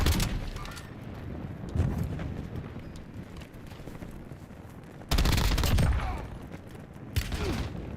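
Rapid bursts of gunfire in a battle royale game, a sustained volley swelling loudly about two-thirds through with shorter shots before and after, over a busy, noisy background.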